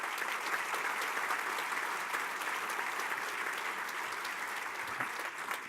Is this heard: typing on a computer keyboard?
no